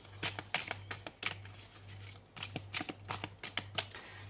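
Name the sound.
shuffling tarot cards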